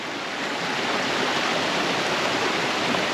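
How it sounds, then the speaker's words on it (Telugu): Steady rushing of river water flowing beside a trekking trail at Los Dinamos in Mexico, a dense, even broadband wash that is close and constant, with no voices. "పక్కనే నది పారుతున్నట్టు వాటర్ అయితే పారుతుంది."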